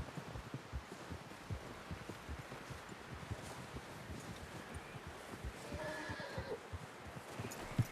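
Rhythmic clip-clop of a horse's hooves in Red Dead Redemption 2, with occasional snorts and rustling, steady and moderately close, no talking.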